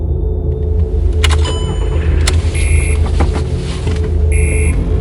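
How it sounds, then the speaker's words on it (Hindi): A jeep engine turns over and catches, a steady low rumble with broadband mechanical noise filling the clip, overlaid by a few short high electronic beeps and chimes, fairly loud and close. "जीप जैसे तैसे स्टार्ट हुई।"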